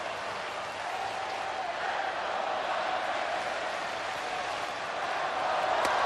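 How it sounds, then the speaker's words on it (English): A sellout baseball crowd roars and applauds continuously in the ninth inning, a dense wash of cheering that swells slightly toward the end. "this sellout crowd standing here with 2 out in the 9th inning"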